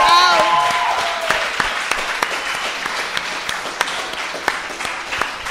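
A live podcast audience at La Capsule claps in a lively burst of applause that starts loud and gradually thins into scattered claps, with a brief voice heard at the start.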